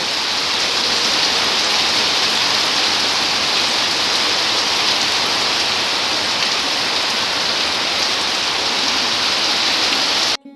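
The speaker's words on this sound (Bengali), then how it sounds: "বাইরে বৃষ্টি হচ্ছে" Steady, loud rain pours outside during a sudden storm, a dense unbroken hiss with no other sounds standing out.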